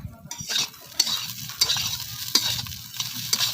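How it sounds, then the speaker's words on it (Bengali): A fried dish with a cracked raw egg sizzling in a pan, stirred with a utensil that scrapes and taps the pan at regular intervals over a steady frying hiss. "তারপরে কিছুক্ষণ ভেজে নিয়ে"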